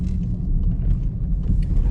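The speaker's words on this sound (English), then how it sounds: "Now I'm about to take a right turn into the industrial park" A Volkswagen Golf R TSI DSG turning into an industrial park, a low, steady engine and road rumble heard from inside the car, with no voices.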